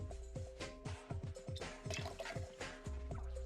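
Hot water pours into a kitchen container while making cactus juice, a splashing, gurgling trickle with irregular bright drips and glugs continuing close by for a few seconds.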